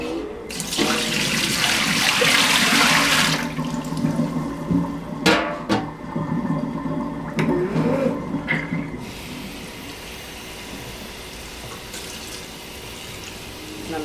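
Clothes are hand-washed in a vintage bowl with only a little water, starting with a loud rush of running water, then sloshing, splashing and handling sounds that fade toward quiet near the end.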